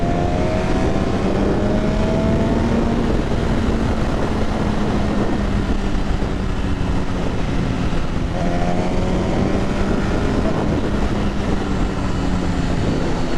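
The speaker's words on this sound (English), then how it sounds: "this bike loves to dive into corners. And it loves to come out of corners too" An MV Agusta F4R motorcycle leans through a run of corners, its engine note rising and falling steadily and loud throughout, with heavy wind rush over the microphone and no talking.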